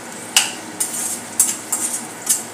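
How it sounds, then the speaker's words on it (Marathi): Spoon stirring vegetables frying in oil in a pan for Schezwan fried rice, with several sharp metallic scrapes and clinks over a faint steady sizzle, close and fairly loud. "अशा प्रकारे आपण हे मिनिटभर तळून घेणार आहोत"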